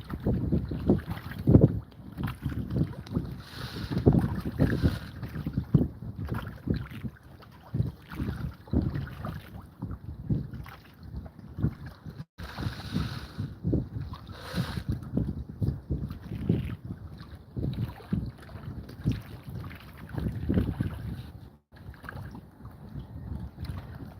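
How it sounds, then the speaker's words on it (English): Gusty wind buffets an outdoor microphone near water, a continuous rough rumble rising and falling in uneven surges throughout, loud and close, with no clear speech. "It's a little breezy out."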